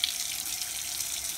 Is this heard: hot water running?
yes